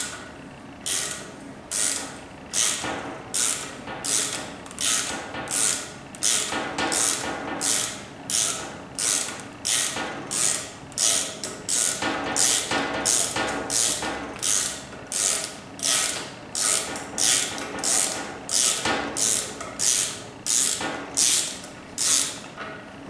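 Ratchet clicking steadily as a tool is backed out of a spark plug hole during a thread repair, a close, loud run of rapid rhythmic clicks in repeated bursts with brief pauses, no talking.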